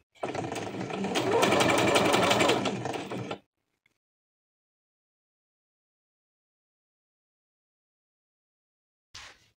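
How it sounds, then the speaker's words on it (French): A sewing machine stitches a fabric hem in one steady, loud burst of about three seconds, then stops, leaving silence until a faint brief noise at the end. "Donc j'ai cousu mon ourlet."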